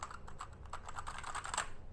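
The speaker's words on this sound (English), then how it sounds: "The keys are buttery soft and makes it really nice that if you're typing" Typing on an Xtremtec wireless keyboard with two-tone keys, a quick close run of soft, light key clicks in an irregular rhythm, heard alone at low volume.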